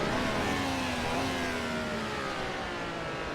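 An engine in a Formula 1 racing video game revs hard and shifts up through the gears, the whining pitch climbing, dropping and climbing again beneath a steady roar.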